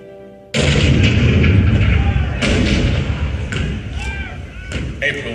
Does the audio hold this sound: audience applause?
no